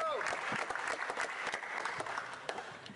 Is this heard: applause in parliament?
yes